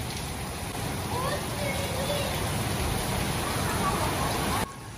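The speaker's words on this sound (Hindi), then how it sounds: "आज बारिश फुल तेज होगी।" Heavy rain pours down in a steady, dense hiss that runs unbroken until it drops off sharply just before the end.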